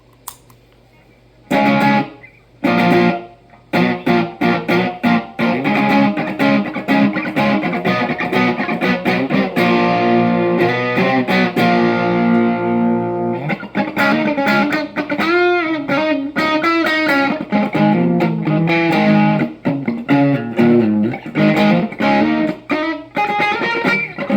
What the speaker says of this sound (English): Here are the distortion knobs, all set to 9 o'clock.